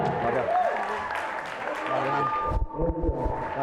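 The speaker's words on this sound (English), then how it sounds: "One more round of applause for John." Applause at a wedding reception, a round of clapping for the newlyweds that carries through the room with chatter and speech over it, thinning out near the end.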